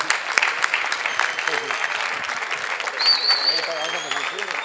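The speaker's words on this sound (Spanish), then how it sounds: "pediré un fuerte aplauso" An audience applauds at the close of a horse-riding training talk at an equestrian fair, with dense, sustained clapping at moderate distance and a voice speaking over it.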